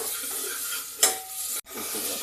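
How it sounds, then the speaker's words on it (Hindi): Onion and ginger fry in a pan with a soft, close sizzle while a utensil stirs and scrapes, with one sharp clink near the middle. "अभी प्याज और अदरक इसको ब्राउन कलर का भुनेंगे"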